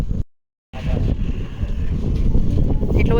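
Cold wind gusting across a microphone at an outdoor viewpoint, a loud continuous low rumble and buffeting after a brief gap of silence near the start.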